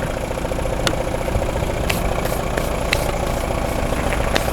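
An old car engine, dirty after rewiring and a partly charged battery, idling steadily with a low continuous rumble and a faint rhythmic tick, close and fairly loud.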